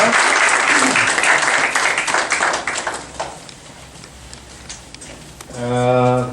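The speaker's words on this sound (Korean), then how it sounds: "다시 한번 뜨거운 박수 한번 보내주십시오." A congregation at a peace and reunification prayer meeting gives warm applause, dense clapping that gradually thins and fades out, followed by a brief tone or chime at the very end.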